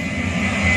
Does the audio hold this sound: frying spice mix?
no